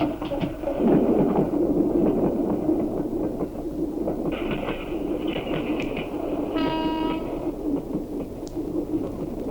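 A train rumbles along steadily with a rhythmic clatter, and a brief horn blast sounds partway through.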